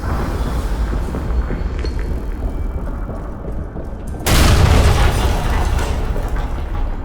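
A grenade goes off in Amnesia: The Bunker, a sudden loud deep blast cutting in over a low droning background and leaving a sustained rumbling roar behind it.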